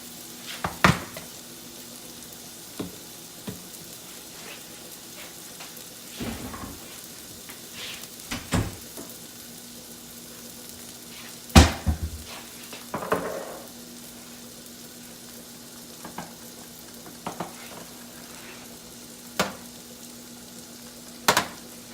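Vegetables for a corn dip sauté in a pan with a faint low sizzle, punctuated by scattered knocks and clatters of utensils and cookware at irregular intervals, without talk.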